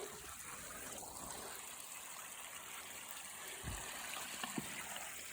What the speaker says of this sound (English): The creek's flowing a lot more now.